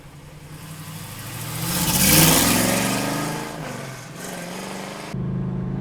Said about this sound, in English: I love the exhaust on this car.